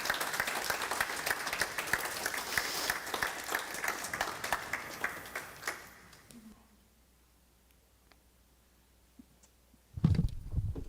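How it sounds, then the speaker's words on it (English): A church congregation claps and applauds during a Sunday service, lively crisp clapping for about six seconds before dying away into near silence, then a sudden loud burst of sound at the very end. "let's have another round of applause"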